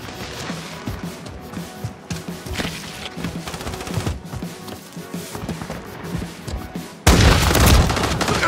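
A thermite grenade going off in Call of Duty MW3, amid scattered gunshots and thuds, ending in a sudden loud, sustained burst of fiery noise.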